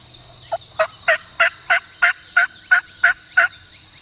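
Wild turkeys gobble in a rapid run of about ten evenly spaced, fairly loud calls, a flock with hens roosting nearby during a spring turkey hunt, heard outdoors with no talking.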